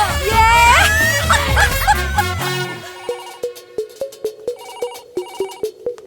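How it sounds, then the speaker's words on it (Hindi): A telephone rings in a steady, repeating electronic pattern after a burst of loud music and voices cuts off, the rings sounding clearly and close. "ए, कब से बज रहा है फोन, उठाने को नहीं होता?"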